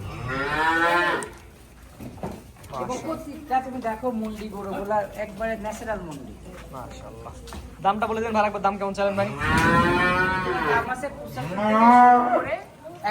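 Flekvieh and Sahiwal cattle moo loudly and repeatedly at a cattle farm, long drawn-out calls that overlap one another, while someone talks over them.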